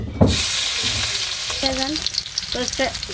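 Onion paste frying in a pan for a village-style chicken curry, a steady loud sizzle with scraping stir strokes and a few brief clinks, no talk.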